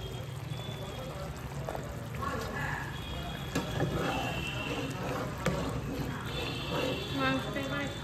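Water is poured into a pot of cooking meat as a steady, low pouring and bubbling wash that runs without a break, close and moderately quiet, while someone speaks over it in Bengali.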